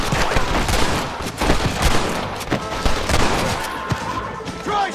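Western-style gunfire from Red Dead Redemption fills the scene, with dense volleys of rapid shots and overlapping blasts crackling nonstop at close range, loud and chaotic throughout.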